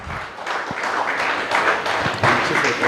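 Audience at a faculty development programme inauguration applauding a vice principal, a close, moderately loud burst of clapping with uneven swells and a few distinct sharp claps.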